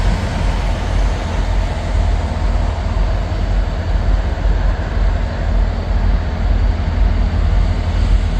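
Intermodal freight train rolling past at close range, a loud continuous rumble of wheels and cars with heavy low-end weight and steady clatter from start to finish, no one speaking.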